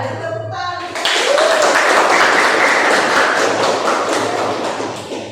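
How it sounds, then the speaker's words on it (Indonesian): A classroom audience breaks into steady applause after a brief spoken moment, the clapping dense and sustained for several seconds before tapering slightly. "ada tepuk tangan"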